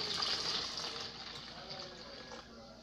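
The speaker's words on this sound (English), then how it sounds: "first, yung pitcher, ilagay dito yung hot water" Hot water pours into a pitcher with a steady, bright, hissing splash that eases slightly as it goes, heard close and fairly quiet.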